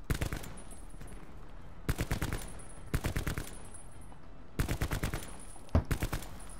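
Bursts of rapid gunfire in the video game Prop Hunt, with several quick automatic volleys separated by brief pauses, steady background noise underneath and no speech.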